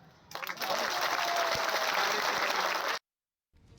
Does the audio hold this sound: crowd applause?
yes